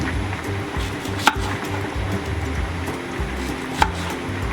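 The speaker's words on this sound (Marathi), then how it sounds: "तर आपण आता छोट्या फोडी करून घेऊया, त्याला कटिंग करूया असं" A knife chops raw mango into small pieces on a board in a quick, even rhythm, with a couple of sharper knocks standing out.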